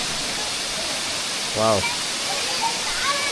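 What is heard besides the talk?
Erumayi waterfall rushing water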